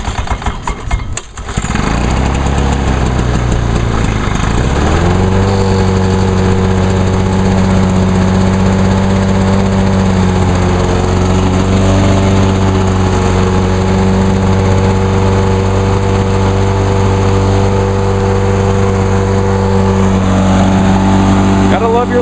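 A two-stroke lawn mower engine is pulled with the choke, sputters for a few seconds, then catches and holds a loud, close, buzzy idle with a slight rise in pitch near the end.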